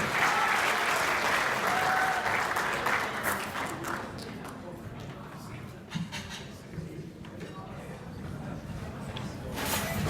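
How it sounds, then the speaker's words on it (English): An audience at an awards event honoring influential Asian Americans in Georgia claps in a full round of applause that swells, then thins into scattered claps before building again. "Ladies and gentlemen, give a big round of applause."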